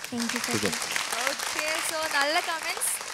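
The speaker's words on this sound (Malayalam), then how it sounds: "ഈ പാട്ട് ധൈര്യത്തോടെ ഇവിടെ പാടിയതിന് ഒരു വലിയ കൈയടി" Audience applause at a televised children's singing competition, a steady broadband clatter of clapping that runs throughout the clip beneath a voice.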